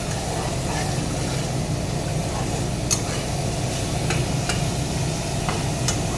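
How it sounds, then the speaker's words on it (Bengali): Masala fish frying in a pan on low gas flame after onions, a steady close sizzle with occasional light clicks of stirring, continuous and fairly loud with no talk. "তারপরে মাছ দিয়ে গ্যাসের আঁচটা কমিয়ে আরও 5-10 মিনিট কষালে মশলা মাছ তৈরি বন্ধুরা"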